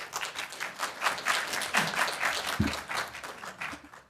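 Audience applause fills a city council evening meeting in Raleigh, steady dense clapping from a crowd of supporters that holds at a moderate level throughout, with no talk over it.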